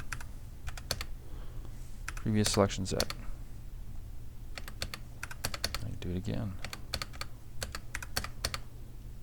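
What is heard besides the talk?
typing on a computer keyboard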